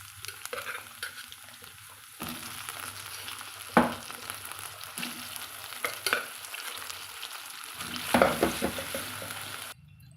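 Cassava pieces fry in oil in a pan, a soft steady sizzle broken by a few sharp metallic stirring scrapes, close but fairly quiet, with no one talking.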